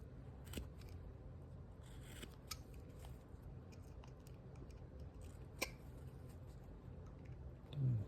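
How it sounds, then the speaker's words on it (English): Sharp knife making a deep chip cut into wood while carving a caricature bust, heard as a few faint, isolated clicks and scrapes over steady low background noise, with a short rougher scrape at the end. "just going to take a pretty deep chip cut out"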